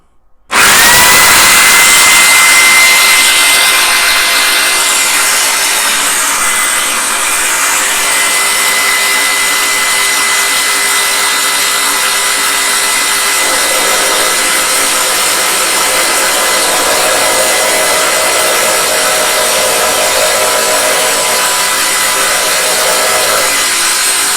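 A loud power drill grinds continuously into a Corgi Studebaker Golden Hawk die-cast model car part for over twenty seconds, a harsh whining roar with slight shifts in pitch as it bites.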